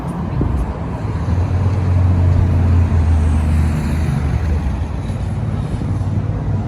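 Road traffic rolls by on a busy Kyiv street near Arsenalna station, a constant loud rumble of engines and tyres with a deep low drone, steady throughout the clip.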